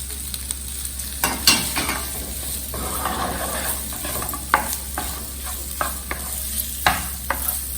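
Boiled potatoes being stirred with spices in a pan for samosa filling, a soft sizzle under repeated scraping and clacking spoon strokes against the pan, irregular and close.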